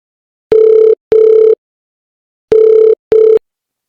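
A telephone ringback tone sounds while a call is placed: a steady electronic buzz in two short double bursts separated by a pause, loud and clean, with no voices.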